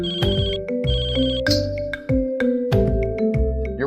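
A Capsule Wallet's Buzz My Wallet locating alert sounds from a phone app, a bright melodic ringtone of quick repeating chimes and tones looping with no talk over it.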